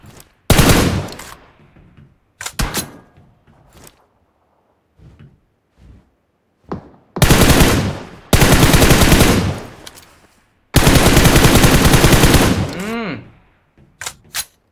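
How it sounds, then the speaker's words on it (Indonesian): Bursts of automatic gunfire from the mobile shooter game Free Fire, with short sharp volleys early on and long loud sustained bursts later, separated by quiet gaps. "ada yang nembak"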